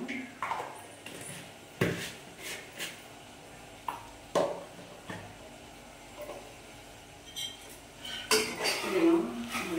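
Chicken curry being stirred in a pot, with a spoon scraping and clanking against metal in irregular knocks and a louder run of scraping at the end.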